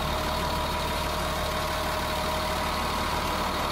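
A Caterpillar 350 diesel engine idles in a 2002 Newmar Dutch Star 4095 motorhome, giving a steady, even hum with a constant low rumble and no change in pace throughout.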